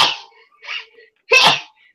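A woman sneezes three times in quick succession at a tabletop roleplaying game session, the first and last bursts loud and close, the middle one softer, each separated by brief silence.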